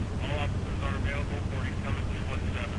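A helicopter flies overhead in The Walking Dead video game, a steady rotor chop and engine rumble with regular rhythmic pulses throughout.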